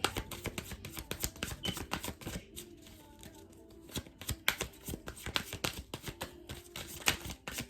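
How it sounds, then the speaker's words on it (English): Tarot cards being shuffled close by, a rapid run of crisp riffling flicks and taps that continues throughout with brief pauses. "I'm gonna go ahead and shuffle up these romance cards to speed it up a little bit."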